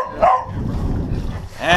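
A dog gives a couple of short, loud barks close by, one near the start and another at the end, with rough noisy sound between them.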